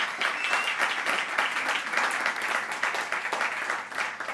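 A church congregation breaks into warm applause during a sermon, many hands clapping in a steady, slightly pulsing wave that carries on without interruption.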